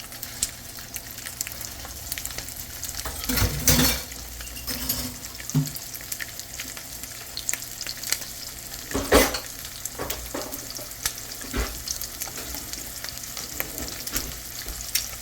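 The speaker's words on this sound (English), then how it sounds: "The oil is hot. So we're going to put the oil in here." Hot oil sizzling and crackling in a pan, ready for frying peppered filet mignon, a steady close hiss broken by a few louder bursts of spatter and stirring, with no voices.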